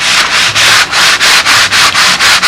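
A balsa block is rubbed over a years-old sheet of sandpaper in steady back-and-forth strokes, about nine rasping passes with short pauses between them, loud and close with no voices.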